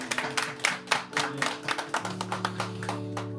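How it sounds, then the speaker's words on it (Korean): Church congregation clapping during a new-member welcome, a brief burst of scattered hand claps with distinct individual slaps, loud at first and then thinning out, with a sustained musical tone underneath in the second half. "박수 한번 주시죠."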